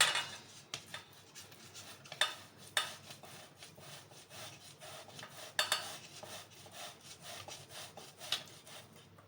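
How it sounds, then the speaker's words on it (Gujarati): Boiled potatoes are rubbed against a grater for farali aloo tikki, making a series of rasping, scraping strokes in an uneven rhythm. The grating is close and fairly clear, with no talk. "હવે આમાં આપણે બધા બટેટા છે એ છીણી લેશું।"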